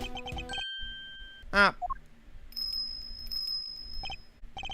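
A small bell on a dog's neck in the Ace Attorney Investigations 2: Prosecutor's Gambit video game gives a light chiming tinkle among game sound effects, with a brief spoken exclamation early on.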